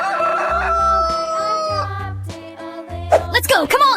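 A cartoonish rooster crows in a 3D animal slide video game, a loud, drawn-out cock-a-doodle-doo with clucking, followed by brief bursts of other game sounds.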